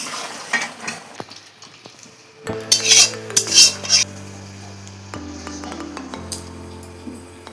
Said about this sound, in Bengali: এবার আমি ঢেলে নেব।